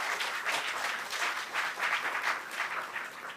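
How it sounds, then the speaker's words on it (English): An audience at an inaugural professorial lecture breaks into applause, a steady wash of many hands clapping at moderate volume, rippling in small swells for a few seconds with no voices over it. "shall we give a big round of applause."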